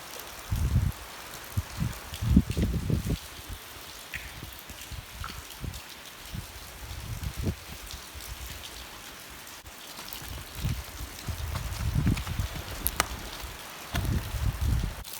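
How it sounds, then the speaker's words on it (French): Steady rain falls outdoors in a garden, a dense hiss of drops pattering on nearby surfaces with irregular heavier bursts close by, no talk. "il pleut."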